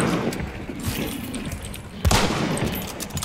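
A rifle in the Hunt: Showdown video game fires once while scoped in, a single sharp, booming shot that rings out over a low, rumbling ambient background.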